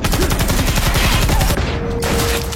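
A gunfire shootout in an action film: rapid bursts of closely spaced shots, loud and continuous, like a fusillade with a brief ringing tone toward the end.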